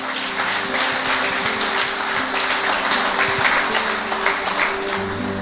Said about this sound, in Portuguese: Se você acredita, aplauda bem forte Jesus.